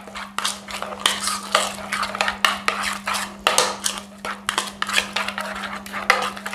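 A spoon mixes cumin and coriander powder in a bowl, producing rapid, rhythmic clinking scrapes of metal against the dish, close and fairly loud over a steady low hum.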